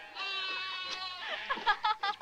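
A sheep bleats in a drawn-out, wavering cry, followed by a few shorter, choppier bleats, close and clear with nothing else over it.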